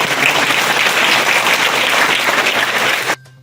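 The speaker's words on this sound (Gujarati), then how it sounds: "એકવાર જોરદાર તાળી" Loud, sustained applause from a crowd at a school event where sweaters were handed out to children in Bharuch, steady for about three seconds and then stopping abruptly.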